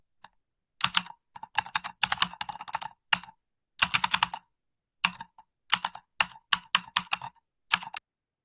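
AI-generated computer keyboard typing comes in short bursts of rapid, clicky keystrokes separated by brief silences, close and crisp with no voices.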